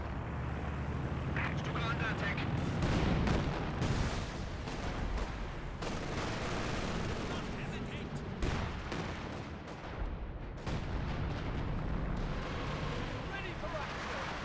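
Katyusha rocket barrage in the Company of Heroes 2 strategy game, a rapid string of launches and explosions crackling through a busy battlefield mix, with a commentator talking over it.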